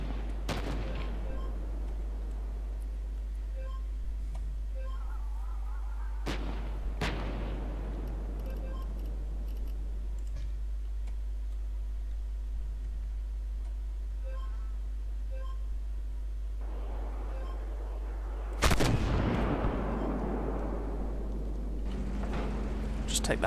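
Distant artillery and tank cannon shots in the video game Armoured Warfare, a few sharp booms spaced through steady game ambience, one louder blast near the end, with someone talking over much of it.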